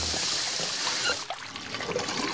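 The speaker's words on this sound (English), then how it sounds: "In the Northern Hemisphere, water always drains counterclockwise." Water runs and trickles steadily down a sink drain, a continuous close splashing flow at moderate loudness with no voices.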